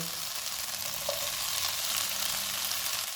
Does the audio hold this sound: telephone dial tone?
no